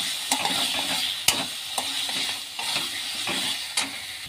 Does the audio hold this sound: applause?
no